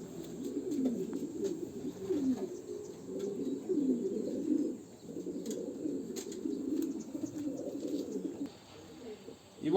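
Young racing pigeon cooing at a loft, a steady low murmur of coos repeating through the whole stretch, fairly close, with faint chirps and light background noise.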